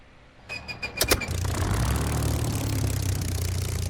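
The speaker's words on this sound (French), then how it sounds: "Alors, on allume ce beau petit moteur et on va parler à la tour." A Spitfire Mk IX engine in a flight simulator game cranks with a few sharp starter bursts, then catches and settles into a steady, loud low idle rumble that holds to the end.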